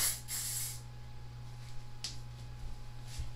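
Lightweight hairspray sprayed onto hair from an aerosol can, one short hiss burst at the start followed by a couple of brief faint puffs, close.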